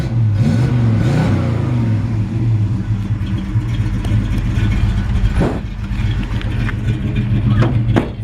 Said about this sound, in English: It's got a nice sounding exhaust.